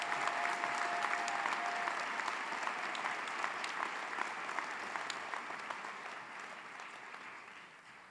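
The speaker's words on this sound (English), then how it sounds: "Please give them one more round of applause." Sustained applause from an indoor audience at a university fall commencement ceremony, dense clapping that gradually fades near the end.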